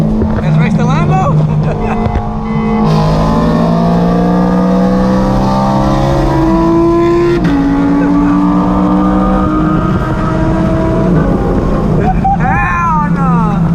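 A straight-piped BMW E92 M3 races and accelerates, its loud exhaust note climbing through rising gear pulls with brief drops at shifts, close and dominant throughout, and people's voices faint under the engine.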